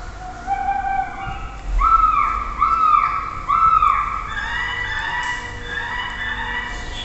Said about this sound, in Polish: Głośnik imituje dźwięki dzikich ptaków, aby ptaki nie składały gniazd.